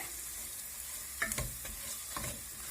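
Spices with ground black pepper fry in a pan with a steady, soft sizzle, and a few short stirring scrapes come near the middle and end, with no voices.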